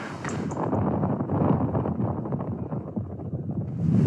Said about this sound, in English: There's a few wind gusts coming in, nothing too major